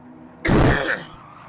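A man at a motor race event clears his throat in one short, loud, rough burst lasting about half a second, close to the mic, with quiet surroundings before and after.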